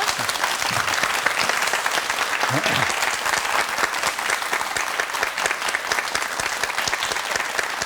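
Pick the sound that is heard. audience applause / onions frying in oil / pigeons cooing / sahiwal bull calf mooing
audience applause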